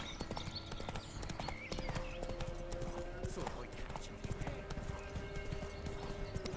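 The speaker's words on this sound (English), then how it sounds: "I wonder where the horse will actually go when I just press X here." Horse hooves clip-clop in a rapid gallop in the video game The Witcher 3, a steady near rhythm of hoofbeats in a bog area, with a brief whinny and someone talking over it.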